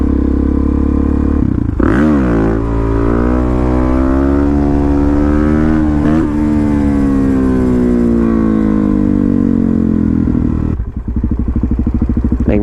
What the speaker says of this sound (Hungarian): Mindig egy picit följebb vesszük a motort.